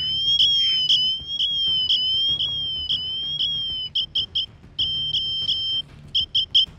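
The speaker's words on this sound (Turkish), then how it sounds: "o siren ekranından çıksanız bile siren çalmaya devam ediyor" An Apple Watch Ultra emergency siren blares outdoors in a forest, a piercing high two-tone alarm pulsing in rapid repeated bursts, with short gaps between patterns and no voices.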